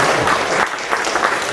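Brief burst of audience applause at a bell ringers' annual general meeting, many hands clapping together in a hall, lively and unbroken for a moment.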